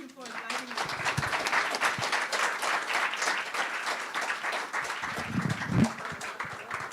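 Sustained audience applause at a book day event, a dense steady wash of clapping lasting throughout, with some voices and murmurs mixed in near the end.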